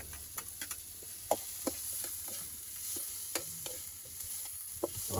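Garlic and ginger sauté in a pan for ginataang tulingan, a soft continuous sizzle broken by scattered clicks and scrapes of stirring, close by and without talk.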